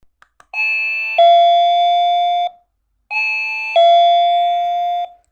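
A Chinese-made wireless doorbell from a home security alarm set plays its ringtone twice: a bright electronic two-tone chime, each note sustained, with a short pause before the melody repeats, loud and close with no voices.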